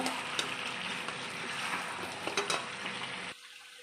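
Chicken pieces for chicken chaap fry in oil with a dense, close crackling sizzle and a few sharper pops, ending abruptly near the close.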